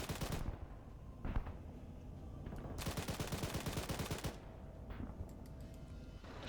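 Gunfire in the military video game Arma 3, loud rapid automatic bursts and single shots in close succession, with a long sustained volley in the middle, no talking.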